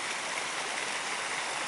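Steady, dense rush of a waterfall stream at a bathing spot after recent rain, a continuous close roar of falling water with no voices.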